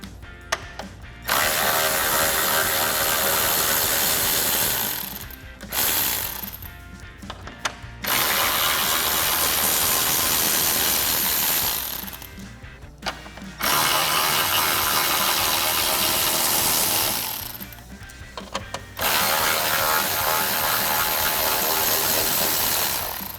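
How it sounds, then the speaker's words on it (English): A ratchet turns out four 10 mm grille bolts on a 2021-2022 Ford F-150 in four long runs of loud, close, rapid clicking, with short gaps between them. "So now we can go ahead and remove our 4 10 millimeter bolts at the top of our grill, holding it in."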